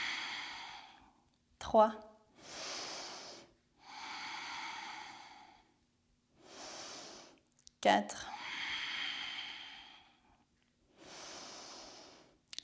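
Slow, deep breaths in and out through the nose during an Ashtanga-Vinyasa yoga pose, close and audible, with short pauses between breaths, and a voice counting over them.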